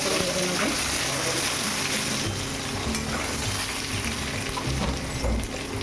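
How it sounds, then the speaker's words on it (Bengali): Potatoes fry in hot oil with a steady, close sizzle and crackle that fills the whole stretch, with occasional stirring scrapes and no talking over it. "এবার আমি আলুগুলো ভেজে নেব।"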